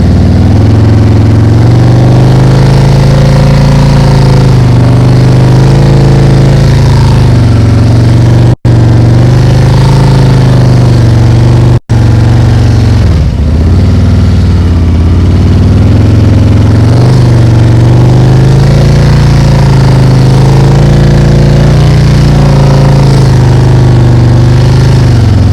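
A motorcycle engine held at high revs during slow clutch-controlled riding drones loud and steady throughout, with small swells in pitch and no voices.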